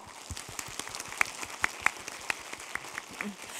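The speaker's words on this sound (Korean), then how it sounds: "우리 목사님들을 위해서 큰 박수 부탁드리겠습니다" Applause from a church audience for visiting pastors of the Seoul Dongbu and Suwon branches, a soft, steady patter of clapping with a few sharper claps standing out, fairly distant and moderately quiet.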